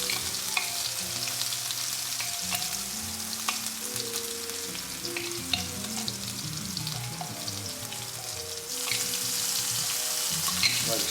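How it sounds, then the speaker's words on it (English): Aromatics sautéing in oil in a pan while being stirred constantly: a steady close sizzle with repeated scraping and clinking of the utensil, continuing for the full length without any talk. "we're just going to saute this in the oil for about 4 to 5 minutes. Constantly stirring it so it doesn't scorch or get burnt"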